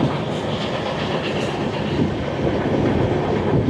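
The Garib Rath Express from Agartala to Kolkata rumbles along steadily, heard from on board, with continuous loud wheel and carriage noise and a faint rhythmic clatter, no talk.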